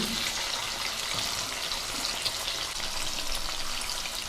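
Masala fries in butter in a pan that was already used for frying, giving a constant close hiss and crackle with small bursts and no one speaking.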